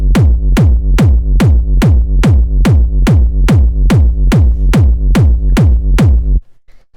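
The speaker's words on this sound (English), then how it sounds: "The first sound we have here is this hard kick" A distorted hard industrial techno kick drum at 144 BPM thumps in a steady, evenly spaced run of about fifteen loud, booming hits with decaying tails, then stops abruptly, alone with no voices.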